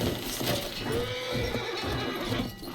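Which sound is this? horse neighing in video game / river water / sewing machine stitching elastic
horse neighing in video game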